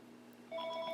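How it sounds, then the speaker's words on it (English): A telephone rings during a jewelry-making session, a thin electronic tone that starts partway through and holds steady over a low background hum, with no one talking. "Sorry about the phone call"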